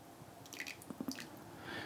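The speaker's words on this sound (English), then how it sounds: "Let's give it a rinse. And pour the rinse into our little fish tea boat here." Tea rinse water from gunpowder green tea is poured into a small fish-shaped tea boat, giving a few soft splashes and drips, close and quiet, ending in a brief trickle.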